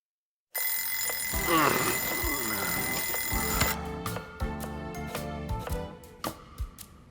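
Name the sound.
alarm clock ringing in a video game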